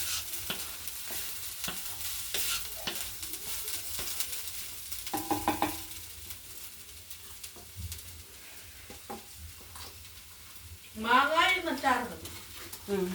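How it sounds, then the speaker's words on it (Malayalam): Garlic, ginger and shallots fry in coconut oil for ginger pickle, a low steady sizzle with occasional stirring clinks, while people talk in the background throughout. "വെളുത്തുള്ളി ഇഞ്ചി കൊച്ചുള്ളി എണ്ണയിൽ മൂക്കുന്നു."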